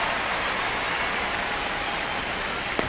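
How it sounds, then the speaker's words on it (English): Steady broadband rain hiss pours down without a break in an MLB baseball video game on PS5, loud and continuous with a small tap near the end and no talking. "This rain is not letting up."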